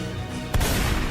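A sudden muffled video game grenade boom bursts out midway, followed by a rumbling, crackling tail, loud and close, after a steady background hum.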